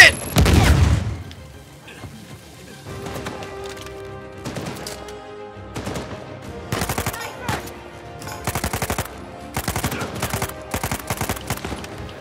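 Rapid automatic gunfire and heavy shotgun blasts fill a firefight in Uncharted 4, starting with a loud boom, then bursts of shots recurring in clusters at close range across the scene.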